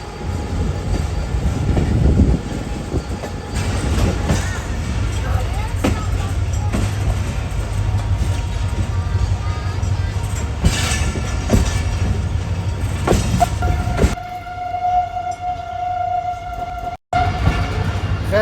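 Pakistan Railways Hazara Express rolls steadily along the track, a continuous loud rumble of wheels and coaches with faint clatter, ending in a sustained tonal squeal or horn-like hum near the close.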